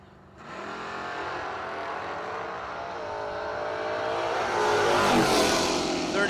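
A 1966 Tempest and a Mustang sit at a drag racing line, their engines roaring loud and close, the revving building steadily and swelling louder toward the end.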